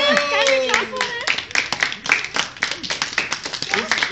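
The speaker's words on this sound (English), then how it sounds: "Can we clap for it?" In a teaching session, people clap in quick, uneven bursts while voices talk and laugh over them. The sharp individual claps become more rhythmic toward the end.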